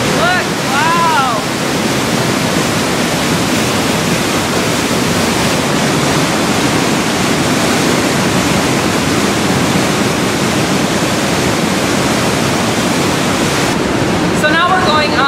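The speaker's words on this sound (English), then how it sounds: "Look, there's the water that's running." Loud, constant rush of water running through a canyon fills the whole stretch, with a brief voice near the start and a few clicks at the end.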